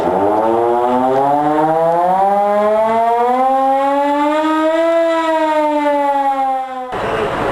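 A loud fire engine siren at a volunteer fire station wails steadily, its tone sliding slowly upward and then easing back down, sustained for several seconds with no voices.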